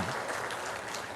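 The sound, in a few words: congregation applause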